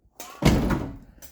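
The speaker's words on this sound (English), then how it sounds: "Close the door." A door shutting after its mechanism was repaired: a short scrape, then a solid thud with a brief rattle fading out, close and alone.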